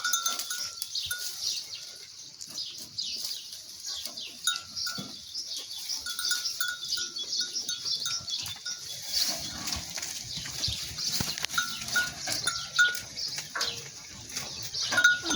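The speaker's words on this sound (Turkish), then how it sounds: "Şu anda bütün kuzularımın hepsi otuyor." Lambs grazing on a farm: small bells tinkle repeatedly and intermittently with soft livestock sounds over a steady outdoor background, and no one speaks.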